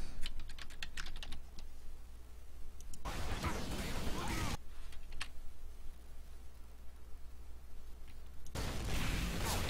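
Someone types on a computer keyboard in quick bursts of clicky keystrokes, close to the microphone, with short pauses between the runs and loud crackling noise breaking in at two points.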